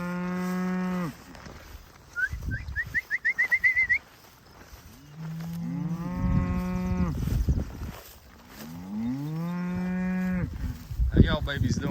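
Cattle in a clearcut pasture lowing repeatedly, several long, loud moos close by, with brief bird chirps between the calls.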